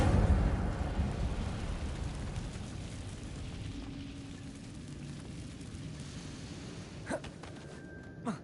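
An Incendio fire spell cast in Hogwarts Legacy gives a loud whooshing burst at the start, then fades into a low rumbling tail and a couple of faint magical chimes and clicks.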